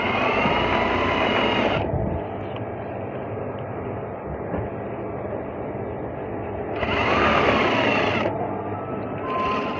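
An electric sewing machine stitches fabric for an abaya sleeve alteration, a loud, steady whirring hum that runs throughout and rises to a higher-pitched, faster burst at the start and again near the end.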